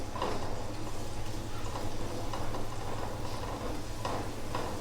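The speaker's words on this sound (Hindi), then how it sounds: "इसको आप थोड़ा सा फ्राई करें।" Steady sizzling of garlic frying in hot oil, with faint stirring clicks and scrapes over a constant crackle.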